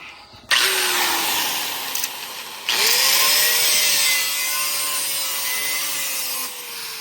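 An angle grinder cuts the blade tips of an Allen 24-inch walk-behind concrete trowel edger, a loud close abrasive whine that starts, dips briefly, then resumes and holds steady before easing off.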